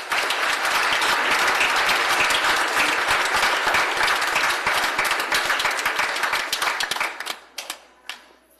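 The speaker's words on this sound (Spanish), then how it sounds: "Aplaudan por las jarras." A church congregation at a Trinity Sunday Mass claps loudly and steadily for the blessed jugs, a dense wash of applause that thins into a few scattered claps and fades out near the end.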